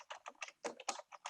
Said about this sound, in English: And I hear you're typing